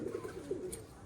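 Domestic pigeons cooing softly at a rooftop loft, a few low murmuring coos over faint background noise, with no talk.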